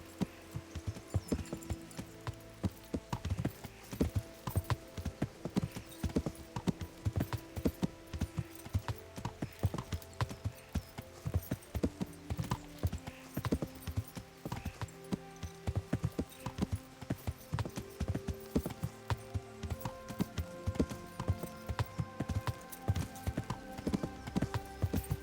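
Horse hooves clip-clop steadily as someone rides along, a continuous rhythmic trot of clear, fairly close hoofbeats with a soft hum underneath.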